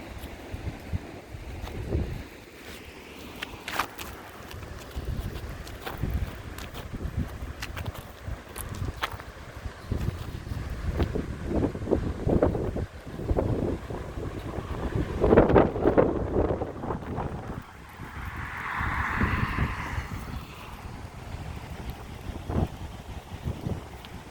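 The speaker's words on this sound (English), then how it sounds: "Oh, it's definitely windy." Strong wind buffets the microphone outdoors on a very windy day, rumbling and gusting unevenly for the whole stretch, with heavier blasts midway.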